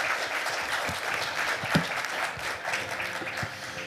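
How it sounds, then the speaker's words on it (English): Audience applause for panelists closing an APEC SME workshop panel discussion: a dense, steady patter of many hands clapping in a conference room, continuous throughout. "Please give a round of applause to our panelists"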